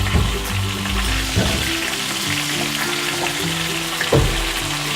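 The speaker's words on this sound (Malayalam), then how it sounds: "ഒന്ന് ചെറുതായിട്ടൊന്ന് ശാലോ ഫ്രൈ ചെയ്തെടുത്താൽ മതി" Chicken shallow frying in a pan for Arabic biryani, a loud continuous sizzle and crackle with occasional clunks as pieces are turned.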